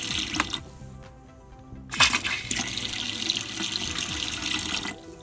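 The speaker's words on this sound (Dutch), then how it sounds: "Koude water loopt ook." Cold water runs from a camper's tap, a steady splashing rush that pauses briefly and then surges back strongly, continuing for several seconds with no voices.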